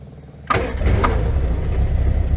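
An MG car engine cranks and catches after the fuel pump primes the carburettors, turning a quiet whir into a sudden loud start that settles into a steady, close idle.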